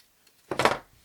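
A single short snip as beading wire is cut from the spool for French beaded flower work, a brief crisp click lasting under half a second, close and alone.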